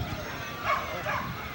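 Sled dogs at the Can Am dog sled race give a couple of faint, brief yips and barks amid a quiet outdoor background.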